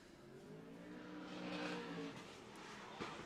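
A supercharged LS-engined Nissan 350Z drift car launches hard off the line at a British Drift Championship pro qualifier at Teesside, its engine swelling into a loud, rising roar over about two seconds before easing off, with a short sharp transient near the end.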